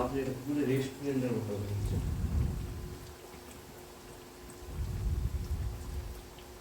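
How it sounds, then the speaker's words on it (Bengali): Chicken pieces coated in batter drop into hot oil in a kadai and fry with a loud, steady crackling sizzle, swelling again near the end, while a person talks over it. "আগে থেকে আমি কড়ায় তেল গরম করে নিয়েছিলাম এখন আমি দিয়ে দিচ্ছি চিকেনগুলো"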